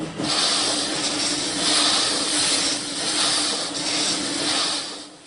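A loud, steady old piston engine roar with a constant hiss and low hum runs without a break, at an antique engine museum in Vista, California. No voices.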